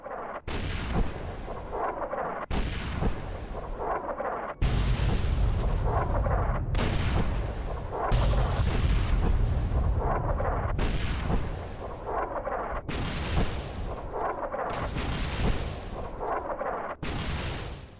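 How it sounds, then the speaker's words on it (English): Heavy artillery bombardment in the post-apocalyptic game Fallout: New Vegas, a dense barrage of deep booms and blasts rolling continuously, loud and close, with sharp cuts between bursts and no voices. "Let's take a look in comparison to a bombardment from Fallout New Vegas."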